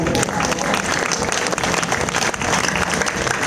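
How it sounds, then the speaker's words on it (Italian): A crowd claps at an Italian village wine festival during the grape-crushing celebration in Ortezzano, loud continuous applause close by with no gaps. "E due belle ragazze, merita un applauso."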